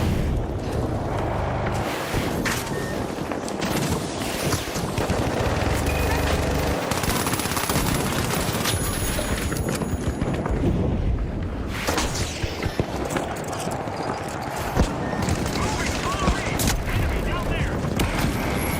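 Rapid gunfire from a shooter video game, with sniper shots mixed into dense bursts of automatic fire and booms, loud and continuous throughout, with a player's voice talking over the action.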